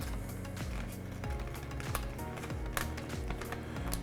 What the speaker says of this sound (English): Start our feeding our paper into the printer.